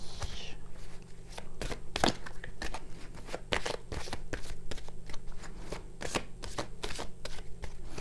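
Tarot cards being shuffled and cut by hand, a run of crisp riffling snaps and slaps repeating irregularly, close and steady, over a faint low hum.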